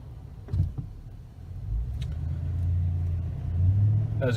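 A car pulls away from a green light on a road, its engine rumbling low and swelling gradually as it moves off, with a couple of faint clicks early on.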